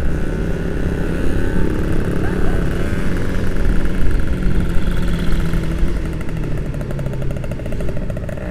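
A Kawasaki Ninja R motorcycle engine revving on the street, a loud steady throaty drone that holds throughout with no talk over it.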